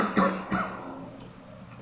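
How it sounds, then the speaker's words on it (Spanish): A single cough from a preacher during a Spanish-language sermon, close and fairly loud, followed by a short breathy throat sound and quiet room tone. "disculpen la tos"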